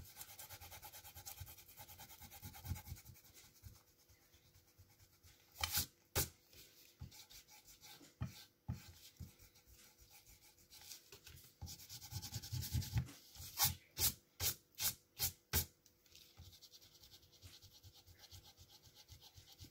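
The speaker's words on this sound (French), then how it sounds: "je viens gommer tous mes traits de crayon" Pencil lines being erased from a folded paper card with a rubber eraser: soft, close rubbing strokes with brief bursts of quick back-and-forth scrubbing, quiet and without talk.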